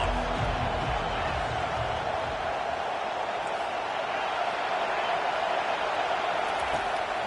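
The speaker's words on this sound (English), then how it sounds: "Decibels rising as the crowd gets behind this defense on 3rd down." Stadium crowd in the EA College Football 25 video game roars on a third-down defensive stand, a steady, moderately loud wash of crowd noise holding at an even level throughout.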